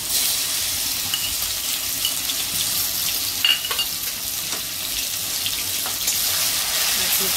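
Green chili thecha dropped into hot oil gives a loud, steady hissing fry that stays dense and even throughout, with faint clinks of a utensil and no clear talk.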